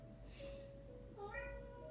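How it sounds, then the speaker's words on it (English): A house cat meows softly at close range, a couple of short rising calls over low room hum with no speech. "There's my cat."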